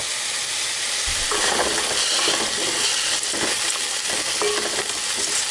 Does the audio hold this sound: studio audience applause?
no